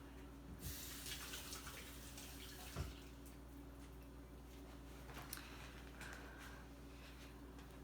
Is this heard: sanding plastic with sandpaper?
no